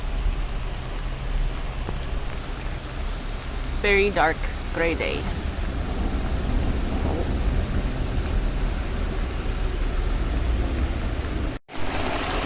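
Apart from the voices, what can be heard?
thunderstorm with heavy rain and thunder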